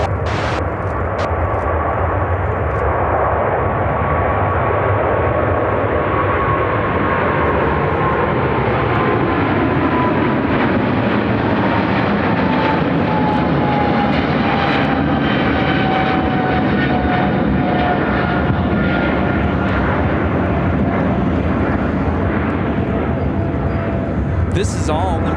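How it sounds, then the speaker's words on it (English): An All Nippon Airways Boeing 777-300ER takes off at Chicago O'Hare bound for Tokyo Narita, its engines a loud, sustained roar with a slowly falling whine that dominates throughout, while people talk in the background. "This is all Nippon Airways Flight 11 taking off to Tokyo Narita on a 777-300ER."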